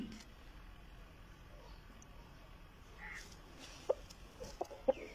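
A few faint clucks from an Aseel rooster, set against a quiet background hiss of outdoor ambience.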